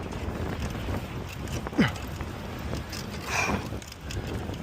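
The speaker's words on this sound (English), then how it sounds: "I just don't like these windy moments" Steady wind buffets a microphone outdoors while cycling a small-wheeled bike, a constant rushing roar, close and fairly loud, with faint passing noises and no talking.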